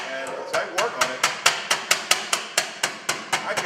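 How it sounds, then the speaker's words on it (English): A hammer with a concave head strikes sheet metal to work out creases, used on a flue tailpiece of a Pittsburg unit. Sharp, close metallic blows fall in a quick, steady rhythm of about fifteen strikes. "being able to work this hammer, you can really take creases out of sheet metal"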